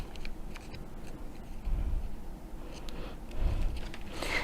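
Scissors trimming excess paper along a die-cut shape, soft snipping and rustling close up in a steady run of cuts with no talking.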